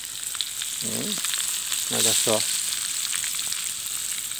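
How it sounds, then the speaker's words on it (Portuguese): Fish coated in wheat flour fries in oil on a riverbank, giving a steady, close crackling sizzle throughout, while someone speaks briefly over it. "Fritando na beira de um rio ainda."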